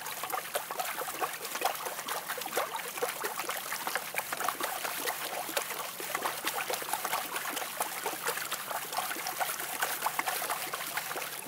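Water and gravel swirled vigorously left and right in a Pyramid Pro gold pan, a continuous sloshing and trickling rattle with no talk over it.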